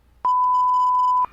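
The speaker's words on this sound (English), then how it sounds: "He doesn't need to beep that out." Censor bleep covering a spoken word in a podcast discussion, one loud, steady electronic tone lasting about a second, sharply switched on and off, with nothing else heard.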